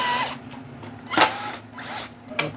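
A power drill on screws of a Yamaha outboard carburetor plate, a few short whirring bursts with pauses between them, close and alone.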